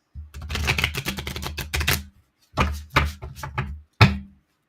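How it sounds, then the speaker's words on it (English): Playing cards being shuffled at a table, several quick rippling riffle bursts in a row, fairly close and loud, with a short pause before a final brief burst and no talking. "this I need to shuffle this again because this card keeps coming up"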